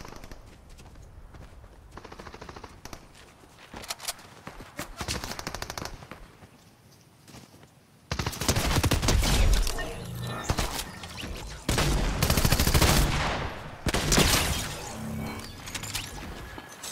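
Gunfire rattles through a video game battle, with scattered shots and short bursts at first, then heavy sustained automatic fire that grows louder and denser midway through.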